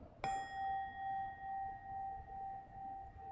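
A meditation bell is struck once and rings out clearly with a long pure tone that pulses gently as it sustains in a quiet room.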